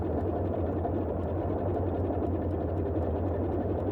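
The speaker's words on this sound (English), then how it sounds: "The radial engine sounds so amazing." The Boeing 247D's radial engine in a flight simulator game holds a constant deep, throbbing drone, steady and near, with even loudness throughout and no speech.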